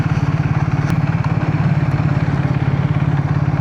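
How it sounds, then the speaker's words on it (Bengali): A motorcycle ridden along a rural road past ponds and rice fields, its engine a steady, close drone with even, rapid low pulsing throughout and no voices. "এখন জানি না মাইকে কতটা ক্যাপচার করছে কি বাইকের সাউন্ড আর আমার সাউন্ড।"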